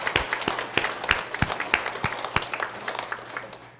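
A church congregation at a Sunday worship service gives applause, with a moderate mix of scattered, distinct hand claps over a softer background of clapping, tapering off toward the end.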